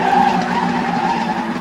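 A screaming sports car skids hard, its wheels spraying dust and gravel, a loud continuous tire squeal and rasp over a driving engine, close up, with no voices.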